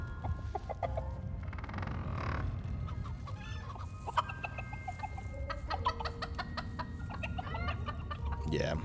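Chickens in the video game Dungeons 4 cluck in quick, repeated bursts, close and steady over a low rumbling game background, with a few brighter squawks near the end.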